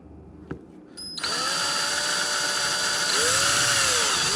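A power drill bores a hole in plastic during a Hobie Compass padeye fix, starting with a click, then a steady, loud whine close by that rises and dips in pitch as the bit works through.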